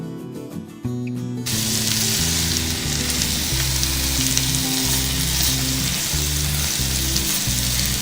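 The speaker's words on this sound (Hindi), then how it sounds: "बस हमने इतना फ्राई करना है कि सब्जियों का जो है ना कच्चापन वो ख़त्म हो जाए।" Vegetables fry in a pan for a seekh kabab pasta, a loud, dense, steady sizzle that bursts in after a quiet second and keeps crackling close up.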